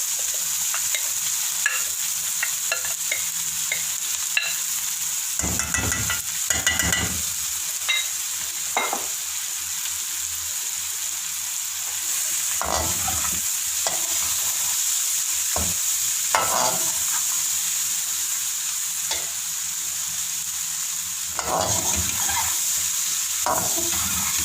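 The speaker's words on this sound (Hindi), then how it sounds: "अब हम दाल को अच्छे से इसमें भून लेंगे।" Lentils (daal) frying in hot oil while being stirred for daal bhray karelay, a steady close sizzle with intermittent scraping spoon strokes scattered throughout.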